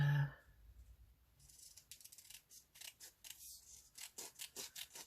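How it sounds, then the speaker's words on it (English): Scissors cut out paper in quiet, repeated snips and rustles that grow into a steady rhythm, with no talking. "So I'm going to just cut this out"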